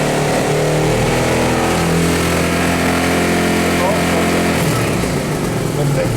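A Hyosung GT 650 R motorcycle engine runs at a steady 5000 rpm, a loud, close, continuous hum that eases slightly near the end.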